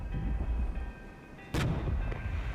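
Units firing in the military strategy game Regiments: a sharp, loud gun blast crashes in midway over a low rumble of engines, preceded by softer distant booms.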